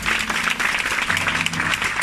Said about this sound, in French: je crois que cela mérite des acclamations